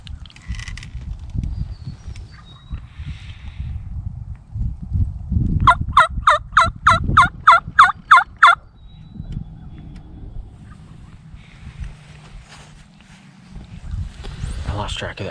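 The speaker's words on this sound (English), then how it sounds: "I got eyes on 3 male turkeys in this next field over." Wild male turkeys gobble out in a field, a rapid rattling burst of calls that carries from a distance, with someone talking quietly close by before and after.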